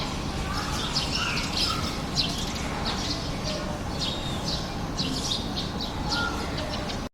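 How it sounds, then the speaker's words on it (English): A toucan in the Amazon rainforest canopy gives repeated short, bright calls, mid-distance, over a constant hiss of jungle ambience. "the rainforest canopy lives one of the Amazon's most recognizable birds, the toucan."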